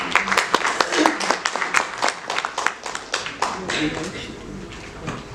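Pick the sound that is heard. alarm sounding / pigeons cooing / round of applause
round of applause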